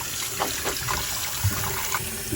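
Rhubarb stalks being rinsed under a running kitchen tap, a steady trickle and splash of water continuing throughout with small shifts as the stalks move under the stream.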